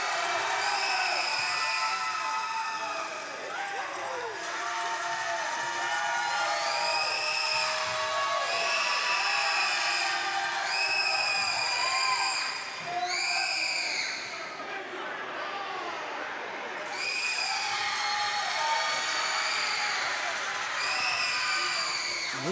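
A loud wrestling crowd at a professional wrestling show in Temple, Georgia cheers, shouts and chants without a break, with voices rising in repeated swells across the whole stretch.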